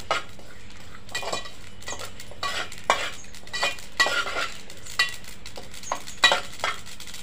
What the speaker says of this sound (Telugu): అక్కడికి ఇట్లా వేయించుకోవాలి, మిసిలించుకుంటూ ఉండాలి.